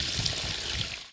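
Water pours steadily onto the roots of a newly planted tree during a village tree planting in Makoshyne. A short, close splashing gush plays with no speech.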